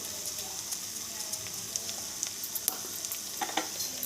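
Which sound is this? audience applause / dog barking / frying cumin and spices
frying cumin and spices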